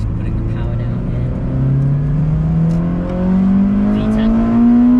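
A Honda Integra DC5 Type R engine accelerates hard while joining a motorway, heard from inside the car as a steady drone that climbs smoothly in pitch, loud and continuous with road noise beneath.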